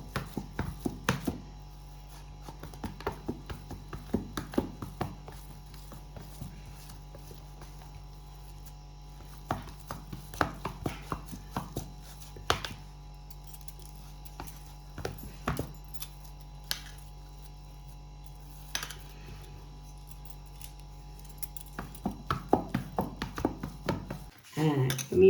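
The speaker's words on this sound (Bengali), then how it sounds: "তারপরে হাতের এই তালু দিয়ে ভালো করে মেরে নিতে হবে, খুব মোলায়েম করে একদম।" Chhena (fresh cheese curd) pressed and rubbed smooth under the palm for malai chomchom. It makes soft, irregular pats and taps, close but fairly quiet, over a low steady hum.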